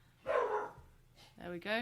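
Dogs bark a couple of short, fairly distant yaps, quiet and brief, followed by a voice speaking close by.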